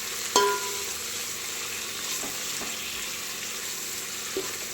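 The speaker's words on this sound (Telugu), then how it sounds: "దీన్ని మంచిగా ఇలా ఆయిల్లో ఫ్రై చేసుకోవాలి" Ingredients for a tomato pulav with green amaranth leaves fry in oil and ghee, making a steady close sizzle with a sharp clank at the start and a few soft stirring knocks.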